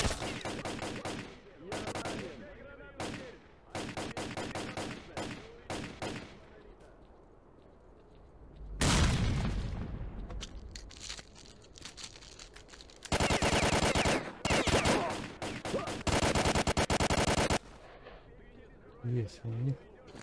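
Gunfire in the video game S.T.A.L.K.E.R.: repeated rapid automatic bursts, loud and close, separated by quieter gaps, with a longer sustained volley partway through and talking between shots.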